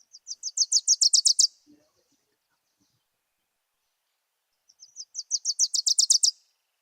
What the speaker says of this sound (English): The Wilson's Warbler, a bright little lemon with a glossy black cap.